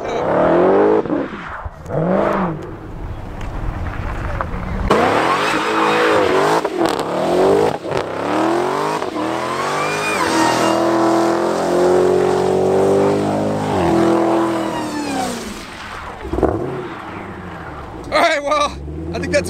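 Dodge Demon doing a burnout, loud continuous engine roar with rising and falling revs and tire squeal, close and dominant throughout with brief crowd voices at the end.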